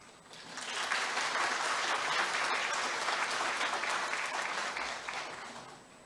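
Applause from an audience seated at a university's 76th founding anniversary ceremony, welcoming a former university president; a broad, steady wash of clapping builds within the first second, holds evenly for several seconds, then tapers off near the end.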